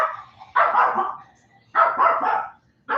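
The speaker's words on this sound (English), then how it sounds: "Somebody's out there walking a dog." A dog barks in two loud, close bursts of rapid barks separated by a short pause, with no talking over them.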